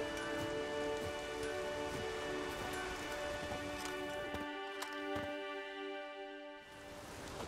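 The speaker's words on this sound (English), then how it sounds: "There's no point standing here in the rain." Steady rain patters on a surface in the video game The Witcher 3, soft and continuous, with a few sharper drops standing out against a faint tonal background.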